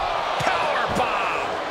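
A wrestler is slammed to the mat with a powerbomb in the WWE 2K23 wrestling game during an ECW match, giving a couple of sharp impact thuds over a constant arena crowd roar.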